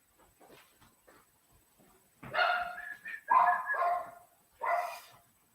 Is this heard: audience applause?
no